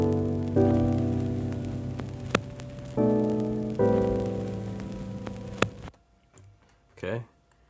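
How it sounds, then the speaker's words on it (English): Vinyl-style crackle and hiss triggered from a pad on an Akai MPC sampler, sounding in short repeated bursts alongside held musical tones, with a few sharp pops, then dropping to faint crackle near the end. "now when I press pad 1, you'll also hear the vinyl noise"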